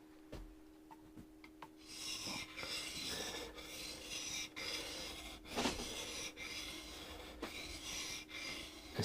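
A woodworking gouge rasps against a sharpening stone, moved across different sections of the stone in steady back-and-forth strokes, a close, continuous scraping with periodic louder passes and no talk.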